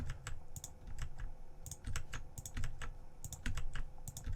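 Computer keyboard typing while modelling in Blender, a rapid run of close, crisp key clicks and taps in irregular bursts over a low background hum, with no talk.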